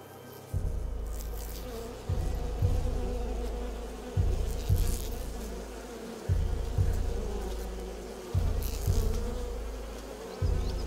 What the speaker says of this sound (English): Bees are everywhere.